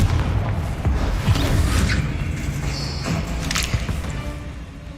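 A Confringo blasting spell cast in Hogwarts Legacy, giving a booming, crashing burst within a busy combat mix of thuds and magical whooshes.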